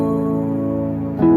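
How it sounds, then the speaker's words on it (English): A lower, darker string section chord played an octave down in an FL Studio 20 Afrobeat arrangement, a thick sustained tone that shifts pitch near the end of a brief excerpt. "Now imagine they were down an octave."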